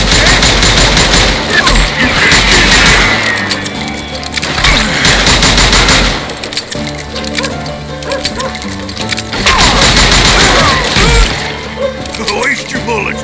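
Call of Juarez Gunslinger gunfire erupts in loud, close volleys of rapid shots, with bursts building and fading over a busy game soundscape of music and effects.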